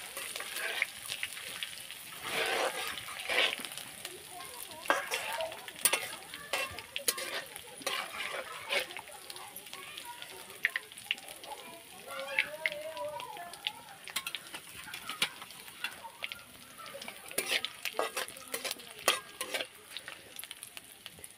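Onions sizzle and crackle in a hot pan on a wood-fired stove while a spoon scrapes and stirs in irregular strokes, moderately close and without talk.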